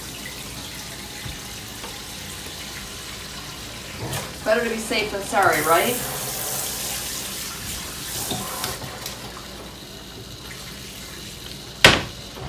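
Kitchen sink tap running water into a dish, with splashing and a few clatters, fairly quiet under a person speaking nearby.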